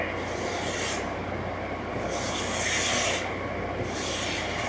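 A trowel or float scraping excess tile adhesive diagonally across freshly set tiles makes a continuous gritty rasping, swelling and easing in rhythmic strokes at close range, with no talk.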